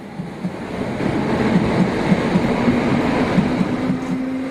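DC third-rail electric multiple unit running on a southern England line, a steady low rumble with rhythmic wheel beats and a faint rising traction whine, continuous and fairly close with no voices.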